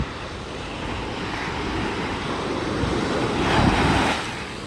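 Ocean waves at a Florida beach roll in with a continuous wash of surf and wind noise, swelling to a louder crash near the end before easing off.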